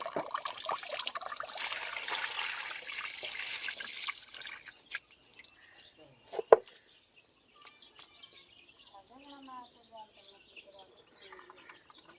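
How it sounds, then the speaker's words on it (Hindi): Water streams and trickles into a pot of chickpeas, a splashy pour for several seconds, then fades to scattered drips and small clinks. "अब हम इसमें दोबारा पानी भरेंगे।"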